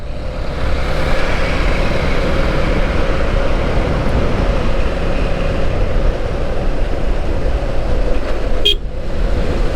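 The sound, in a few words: train running on a rainy day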